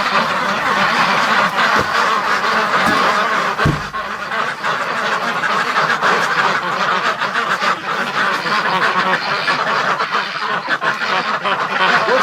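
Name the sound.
ducks quacking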